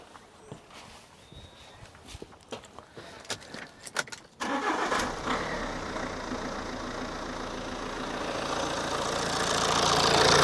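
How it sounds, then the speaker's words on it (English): A Fiat Doblo with a 1.6 Multijet diesel engine, just after an EGR valve replacement, cranks and fires after some clicks and handling noises, then settles into a steady, slightly rising diesel idle. "Lovely smooth idle."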